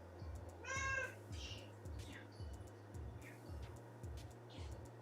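A cat meows once loudly and close, followed by a few shorter, softer mews, over a steady low pulsing hum in an indoor kitchen setting.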